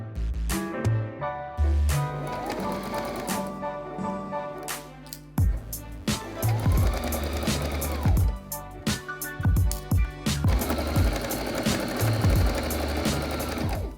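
A sewing machine stitches the seams of a baby's rabbit jacket in several close, loud bursts of fast rhythmic needle hammering, separated by brief pauses, with no talking.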